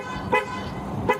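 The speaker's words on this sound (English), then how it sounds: "I was following behind you honking the horn" A car horn honks twice in short toots, loud and close, separated by a brief pause.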